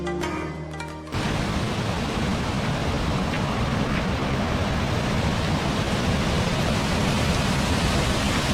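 Rushing water of the Panamkudantha waterfall in Pathanamthitta fills the air with a loud, steady roar. It swells in abruptly after a brief moment of other sound and holds without a break.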